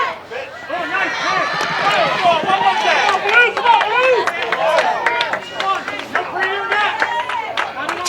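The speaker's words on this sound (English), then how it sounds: "pretty loud crowd here today." Loud crowd of fans, students and parents at a high school softball playoff game, a steady roar of cheering and chatter with claps and shouts throughout, mixed under close talking.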